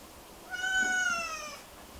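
A pet cat gives a single drawn-out meow, clear and fairly close, over a quiet room hiss.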